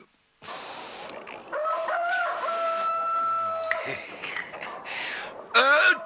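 A Chinese rooster crows in a long, drawn-out call in the middle of a scene from an old Turkish comedy film. A shorter, harsher burst follows near the end, with voices and background noise around it.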